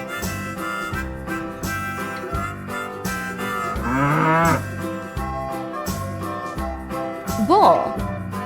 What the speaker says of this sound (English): Bull.